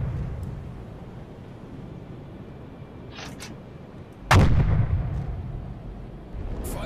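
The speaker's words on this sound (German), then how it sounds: "Schöne Explosion, ne?" A tanker explodes after a hull breach in the UBoat submarine video game, a sudden loud blast bursting out of a low rumble and then settling into a rolling roar, with no voices.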